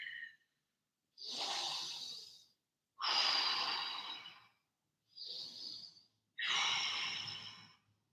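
Deep, active breathing during a yoga flow: a long, audible breath at the start followed by four drawn-out breaths, each an airy rush through nose or mouth separated by short silences, close and fairly loud.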